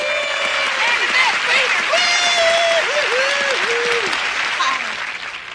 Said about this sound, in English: let's have a big round of applause for Miss Bernadette Peters